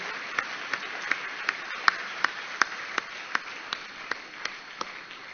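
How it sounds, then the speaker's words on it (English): Applause from the audience at an AIIMS medical convocation ceremony comes as a thin, steady run of evenly spaced single claps over faint room noise. "Give a big round of applause for those who have been awarded already."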